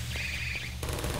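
Turret guns in the video game Half-Life 2 Episode fire a steady, loud stream of rapid shots, with a harsher burst of fire near the end.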